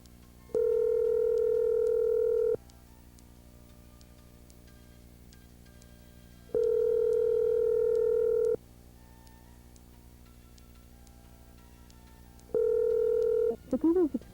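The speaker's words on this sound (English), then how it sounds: "Going right to ringing instead of doing the Skype sound." A phone ringback tone repeats three times, each a steady two-second electronic buzz separated by pauses, the last cut short by a brief voice.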